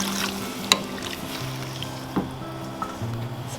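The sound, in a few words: split peas sizzling in oil in a hot pot as stock is added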